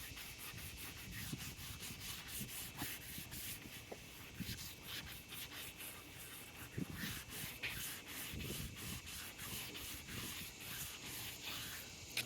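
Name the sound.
sanding a car headlight with 180 grit sandpaper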